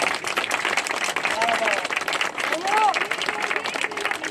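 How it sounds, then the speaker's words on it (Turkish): A crowd at a seaside festival on Victory Day claps and applauds steadily for several seconds, a dense patter of hands with a few voices rising through it. "Onları şöyle kuvvetli bir alkışlayın bakalım."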